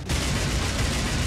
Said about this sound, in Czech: někdo střílí teď